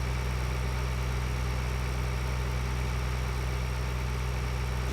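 A tractor engine idles steadily in the video game Farming Simulator 2013, a continuous low, even rumble with no variation and no talking.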